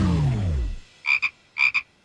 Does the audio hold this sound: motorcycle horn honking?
no